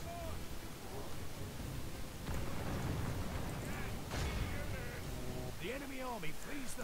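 Troops fire a volley in the video game Medieval II Total War, a burst of battle noise and gunfire-like cracks over a continuous din of combat, with voice-like calls rising near the end.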